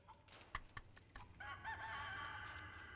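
A chicken clucks in a few short, sharp bursts, then lets out a longer, drawn-out squawking call, fairly close and with no talking.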